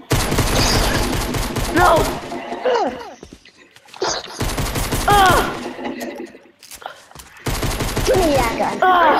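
Gunfire in the video game Fortnite: loud rapid bursts of automatic shots in three separate volleys with short gaps between them, while a voice shouts briefly over the shooting.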